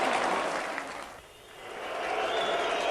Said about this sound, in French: Des coups de sifflet, mais aussi beaucoup d'applaudissements pour Marc de Grèze qui descend